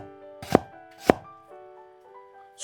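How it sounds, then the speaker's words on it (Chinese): Ginger and onion sliced with a knife on a cutting board, two sharp close chops about half a second apart, then a third at the end, over a faint ringing tone. "生姜切成薄片，半个洋葱切成细丝"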